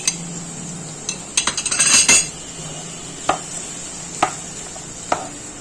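Onions go into a pan of half-cooked cumin potatoes, with a quick burst of clattering metal and utensil clinks, then a few sharp separate taps against the pan, all close and otherwise quiet.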